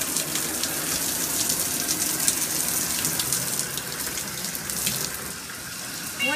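Hot water gushes steadily from a household tap, a continuous close splashing hiss filling the sink with no breaks and no voices.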